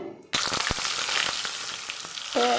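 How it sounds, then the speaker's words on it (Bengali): Pointed gourd pieces fry in mustard oil with dried red chilli and cumin, bursting into a loud, steady, close sizzle after a brief quiet start, with a few sharp clinks of a utensil against the pan. "প্রথমে পটলগুলো একটু লাল লাল করে ভেজে নিতে হবে।"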